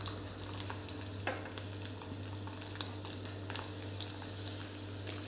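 Chopped garlic, six or seven cloves, sizzles in hot oil with cumin seeds. A soft, steady frying hiss runs under a low hum, with a few faint stirring scrapes and clicks close by.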